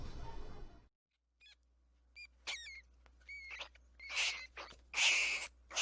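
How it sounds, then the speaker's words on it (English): Rat squeaking: a series of short, high, chirpy squeaks scattered over several seconds, growing louder and denser toward the end, with no voices. "Listen to the audio of rat squeaking."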